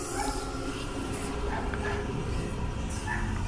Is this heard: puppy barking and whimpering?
yes